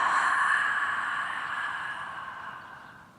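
A single long exhale during a yoga stretch, close and breathy, gently fading away over about three seconds.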